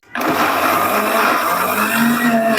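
An electric blender whirs into a loud, steady grinding drone after a brief start-up, churning a spice paste for a chicken dish, with no talking over it.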